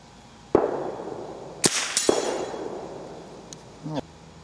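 .22 rifle shots fired at targets such as a rabbit figure and cans outdoors: several sharp cracks spaced apart, some followed by a faint metallic ring of a hit, at moderate distance with background ambience.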